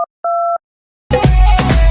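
A telephone gives two short electronic tones while a call is placed, followed by a burst of loud, noisy background sound.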